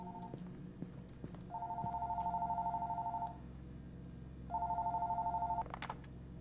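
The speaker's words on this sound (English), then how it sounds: "Oh, phone's ringing." Telephone in the horror video game Fears To Fathom rings in two long electronic bursts, steady and fairly clear over a low ambient hum, with a short pause between rings.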